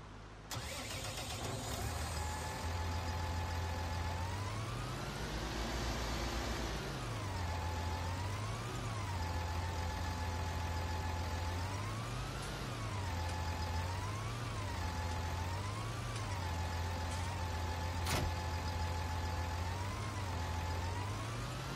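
Tractor engine in Farming Simulator, a John Deere 6180 working around a farmyard with a trailer, droning steadily up close with rising and falling revs and gear whine, no talk over it.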